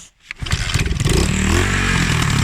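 GT125 motorcycle engine starting and revving, a brief catch then a rising, loud, rough roar held close for the rest of the clip.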